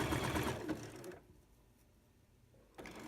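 A sewing machine stitches fold-over elastic onto a palm gauntlet, a close steady motor whir for about a second, then a pause of near quiet before the stitching starts again briefly.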